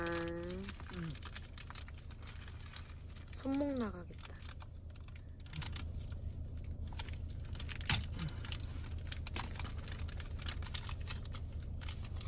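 Crackling, ripping sounds of protective adhesive tape being peeled off a new Hyundai Palisade in short bursts, with a few brief spoken words and some background rumble.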